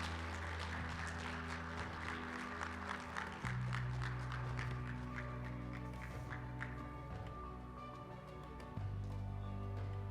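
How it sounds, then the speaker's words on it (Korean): A live audience applauds at a peace forum opening ceremony after a string quartet performs, steady clapping sustained throughout under a low hum. "큰 박수 부탁드립니다."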